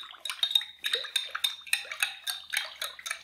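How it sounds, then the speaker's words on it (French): A spoon stirs roasted peppers with sugar and salt in a metal pot, giving a rapid series of close scraping clinks and knocks in an uneven rhythm. "Je mélange bien."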